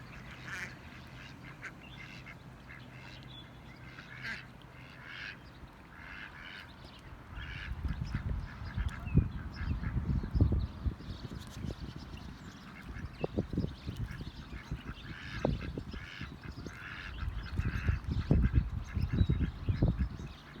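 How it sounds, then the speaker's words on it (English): Ducks quack and squabble at a lake, with many overlapping nasal quacks building from scattered calls into a busy, fairly close chorus over steady outdoor background noise. "Having a duck argument?"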